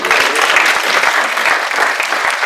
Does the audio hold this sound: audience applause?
yes